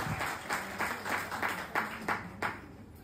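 Audience applause in a gathering where men have just clapped and now the women take their turn, a steady wash of many hands with rhythmic surges roughly every third of a second, moderately loud and continuous without talk.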